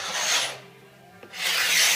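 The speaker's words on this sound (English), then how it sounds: "the sanding was taking too long" Two bursts of coarse, rasping sanding on wood, close up, separated by a short pause with a faint click.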